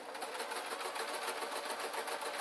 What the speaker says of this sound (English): And I'm sewing over, just literally sewing across the gathers.